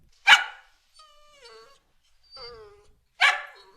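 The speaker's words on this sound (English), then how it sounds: "my dog Puppy Shots is hanging out with me right now, and I'm driving him crazy because I got a piece of his bacon" A pet dog whimpers and yips in thin, wavering whines between sharp barks, begging for a piece of bacon; two loud barks bracket a couple of high pitched whimpers in an otherwise quiet room.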